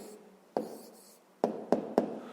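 Handwriting an answer to a fifth-grade maths exercise, heard as a few short, dry scratching strokes of pen on paper, close and quiet, with no talking.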